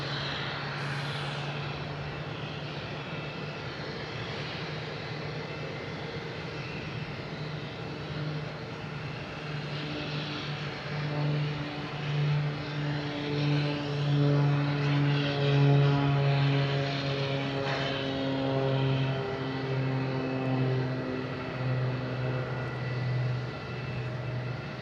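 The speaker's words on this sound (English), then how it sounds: "Next taking off is a Cape Air heading to Iceland." A Cape Air airplane takes off at Boston Logan, its propeller engines droning steadily and building to a louder peak midway before easing, heard alone without voices.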